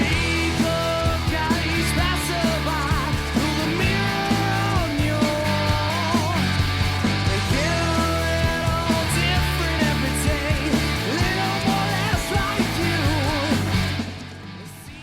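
Full-band rock song by a New Jersey band, played at steady loud volume with driving drums, guitars and vocals throughout before cutting off at the end.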